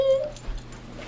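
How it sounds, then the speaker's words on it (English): A puppy whimpers and yips in a brief, close, high-pitched whine lasting about a second, with no talk over it. "He's a little puppy, so, well, he's a big puppy."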